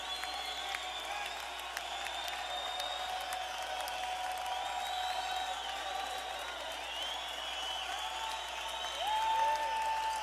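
Applause from a live Halloween concert crowd, a dense steady clatter of clapping held at even loudness, swelling slightly near the end with faint cheering.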